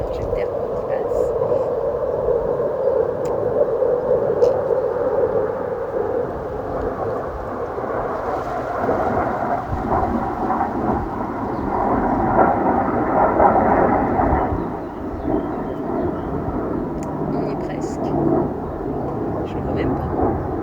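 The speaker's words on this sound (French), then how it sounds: "Ah, il y a un avion qui passe." An airplane passing overhead, heard from inside a parked car as a low, broad rumble that swells and fades over several seconds, with someone talking over it.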